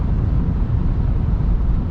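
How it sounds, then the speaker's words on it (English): Wind roar from a roof box fitted to a Land Rover Defender 90 while driving, a steady low broadband rush, loud and continuous with no gaps. "I've now got the roof box on the car and there is significantly more wind noise than there was before"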